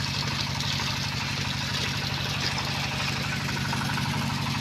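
A small engine powering bore well drilling runs steadily and loudly, a continuous throbbing mechanical drone with a regular pulsing beat and no pauses, close by, with no talking.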